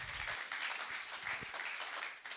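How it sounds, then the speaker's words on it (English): An audience at a business networking event applauds for Evina Ibru, a dense wash of clapping heard from a distance, steady and fairly faint for the whole moment. "Ladies and gentlemen, a round of applause for Evina Ibru,"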